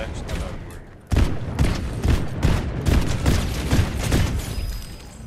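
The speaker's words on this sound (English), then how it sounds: "I thought it was a bot until the dude started actually shooting me" Rapid bursts of opponent gunfire in the Fortnite battle royale video game, a dense fusillade of repeated loud shots beginning abruptly after a second and continuing steadily to the end, mixed with game effects.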